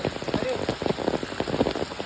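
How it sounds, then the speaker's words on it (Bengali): Heavy, continuous rain in Noakhali that has poured since the night before drums steadily on surfaces as a dense, loud patter with no break and no voices. "কালকে রাত্রের থেকেই প্রচুর বৃষ্টি হইতেছে"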